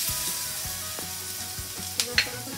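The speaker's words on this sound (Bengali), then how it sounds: "সেই তেলের মধ্যে আমি দিয়ে দেবো একটু রসুন কুচি" Chopped garlic frying in leftover oil after kebabs, a steady soft sizzle with a few low stirring scrapes and two brief sharp clinks near the end, no voices.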